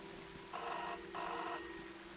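A telephone in the video game Season: A Letter to the Future rings in two bright electronic bursts separated by a short gap, fairly quiet over a faint steady background hum.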